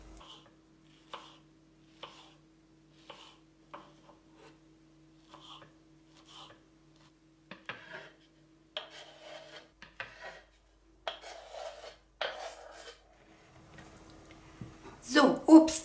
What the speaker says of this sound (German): Und so machen wir auch mit dem Pfirsich. Auch in die kleinen Stücke schneiden.